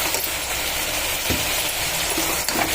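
Chili powder sautéing in a pan for a bottle gourd rice dish, giving a steady close sizzle and frying hiss with a few soft stirring scrapes, and no talking.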